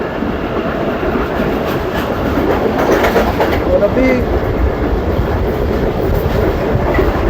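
The Tezgam 8 Down passenger train runs on the rails near a village station, with a steady loud rumble and clattering wheels heard from on board, while someone speaks briefly over the noise.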